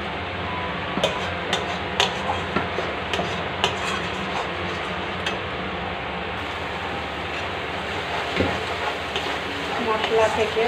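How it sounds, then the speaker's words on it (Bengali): Spiced masala paste fries and sizzles in oil in a pan for a Bengali paratha dish, a steady close hiss broken by repeated scraping clinks of a stirring spoon throughout. "মশলা ভালো করে একটু কষিয়ে নেব।"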